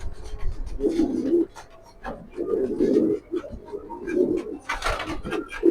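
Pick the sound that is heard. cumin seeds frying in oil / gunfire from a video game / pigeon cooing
pigeon cooing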